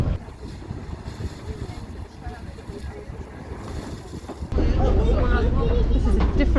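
A ferry crossing to Praia de Faro in the Algarve, with a steady engine rumble and wind buffeting the microphone, growing louder and rougher partway through, while people talk.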